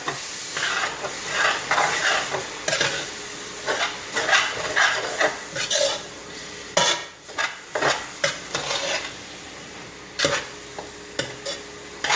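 Cabbage with crushed red pepper for smothered cabbage is stirred in a hot pan: a soft hiss and sizzle sits under frequent irregular scrapes and clatters of the spoon, loud and close, with no one talking.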